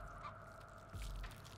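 A chicken alarm squawking in The Texas Chainsaw Massacre video game, a faint, brief honking cackle over a quiet ambient hum, with no talking.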